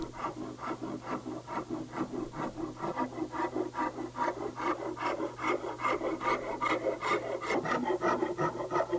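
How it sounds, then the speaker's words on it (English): Steady rasping and filing of a wooden guitar neck being hand-carved, with rhythmic back-and-forth strokes continuing evenly throughout, close and moderately loud with no talking. "It's a fairly time-consuming process to carve a neck this way"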